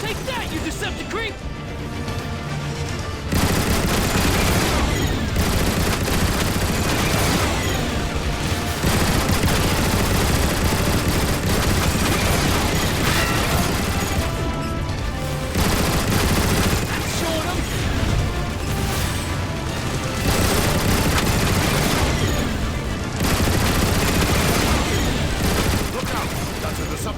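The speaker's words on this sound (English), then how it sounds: "Autobots, man the turrets." Sustained turret fire in Transformers War for Cybertron, long loud bursts of mechanical shooting and booms that pause briefly between volleys, with voices talking over the combat.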